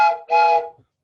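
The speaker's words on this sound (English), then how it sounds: "Another whistle I have." A short two-note whistle blown to call a chemistry class meeting back to order. A brief tone is followed by a longer, brighter one, each clear and close, and then silence.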